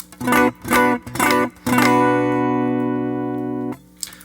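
An electric guitar is played clean through a clean boost pedal: three short plucked chords are cut off quickly, then one chord rings out clearly and decays for about two seconds before being muted.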